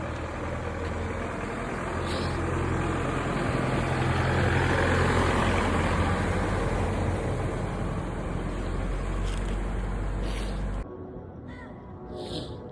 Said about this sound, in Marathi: इकडे रस्त्यावर गाडी आली.